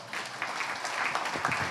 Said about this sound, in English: Let's give Mike and David a big round of applause.